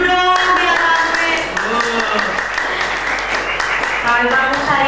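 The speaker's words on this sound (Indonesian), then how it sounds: "tepuk tangan dulu dong biar rame" A studio audience of children claps at a local television talent show, a patchy burst of hand claps under a presenter's voice, with music-like tones and speech running throughout.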